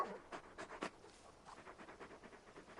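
Torgal, the large dog companion in Final Fantasy XVI, panting in quick rhythmic breathy puffs, soft and close, with a few stronger breaths at the start and steady panting after.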